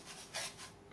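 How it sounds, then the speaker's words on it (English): A spoon rasps sugar around a saucepan on the stove, one faint, brief gritty scrape in a quiet room. "take your sugar and evenly move it around the saucepan"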